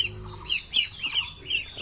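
A hen that has hatched ducklings clucks close by in a series of short, bright, repeated calls with small gaps between them.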